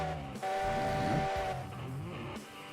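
A Heisler steam locomotive's whistle sounds in the video game Railroads Online: one sustained tonal blast of about a second, over a hissing steam and engine bed.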